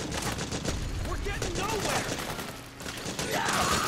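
Machine gun fire in the video game Metal Gear Solid 4, a steady stream of rapid shots under dense battle noise, with someone talking over it throughout.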